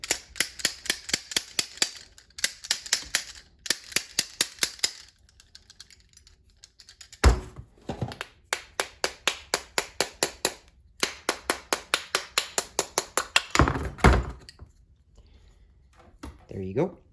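A seized carburetor part on an MTD Yard Machines snow blower is knocked loose with rapid, sharp metallic taps in several quick bursts, close by, with pauses and a couple of heavier knocks between.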